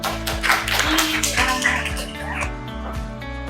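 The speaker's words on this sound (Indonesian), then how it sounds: "Tepuk tangan untuk" A classroom of students claps in a short, uneven burst during a school civics lesson, with sharp taps and some voices mixed in over a steady tonal background.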